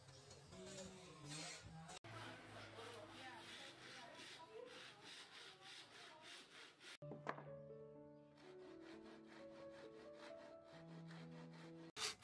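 A handsaw cutting bamboo into sections, with steady rhythmic back-and-forth rasping strokes in several separate runs, close and clear, and a voice speaking at times.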